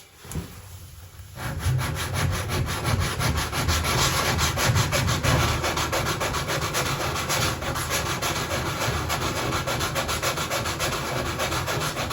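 Hand sanding of a fiberglass shower repair with 120 grit sandpaper makes a steady, close, continuous rasping scrub that starts after a brief quiet moment and runs unbroken to the end.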